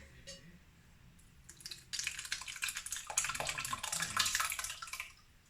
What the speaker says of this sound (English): and to this I'm gonna pour the curds.